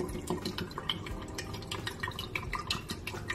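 Liquid D96 developer poured into a black and white film developing tank, a steady close splashing and trickling stream with dripping accents, heard alone without voices.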